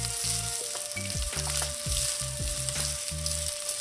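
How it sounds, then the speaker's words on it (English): Onions hit hot oil in a pot and fry with a bright, continuous sizzle, while low tonal music plays steadily underneath. "When your oil is hot, add in your onions."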